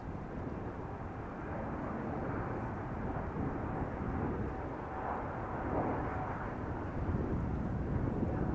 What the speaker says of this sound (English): Air Europa is lining up on the center runway and is taking off to Madrid already.